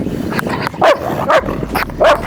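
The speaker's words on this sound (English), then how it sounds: "I'm gonna have her bark really fast, just so you're aware." A dog barks on command during reactive-dog training, three sharp, loud, close barks spaced evenly apart with no talk over them.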